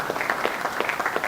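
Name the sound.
applause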